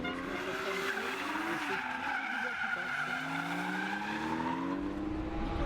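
Race cars drifting on a circuit during a French drift championship round, including BMW M3s, with loud sustained tire squeal and skidding layered over rising and falling engine whine. There is faint commentary in the background.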